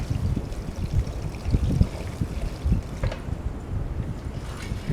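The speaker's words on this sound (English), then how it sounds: "I think I'll rinse a little bit more." Water rinses crud out of a 316 mower with a low, gurgling, sloshing wash and irregular splashes, close by and steady throughout, with no talking.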